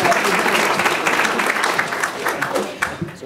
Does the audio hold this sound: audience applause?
yes